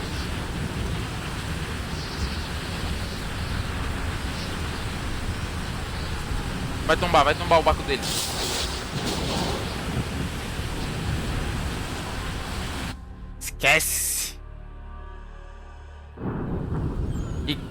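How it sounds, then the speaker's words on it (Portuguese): Stormy sea weather in Assassin's Creed 3, a steady broadband roar of rain and wind that stays loud throughout, with bursts of crackling around the middle, a sudden dropout near the end and people talking over it. "Entra na tempestade"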